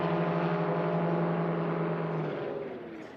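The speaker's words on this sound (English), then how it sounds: "Listen to the snowmobile engine." A high, steady, turbocharged snowmobile engine drone from a small aircraft in a STOL drag race, loud and close, holding pitch and then fading and lowering as it pulls away.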